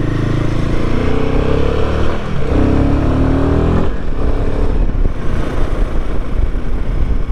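Royal Enfield Himalayan 450 motorcycle engine revving steadily at close range, a loud continuous drone with rising harmonic tones that briefly dip and climb again, no talking.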